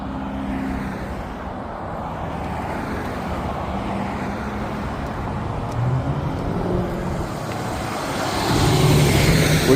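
Road traffic streams steadily past a single-lane construction closure at an entrance in Loganville, a continuous close rumble of passing cars that swells louder toward the end.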